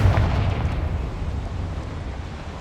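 A Confringo explosion spell goes off in Hogwarts Legacy as a deep boom at the start, then fades into a long low rumbling tail, heard alone without speech.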